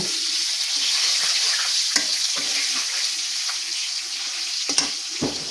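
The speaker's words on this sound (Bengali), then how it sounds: "দেখছেন, আমার কাঁঠালের টুকরোগুলো ভাজা হয়ে গেছে।" Young jackfruit pieces frying in hot oil, a loud continuous close-up sizzle with occasional sharper pops and crackles, no speech.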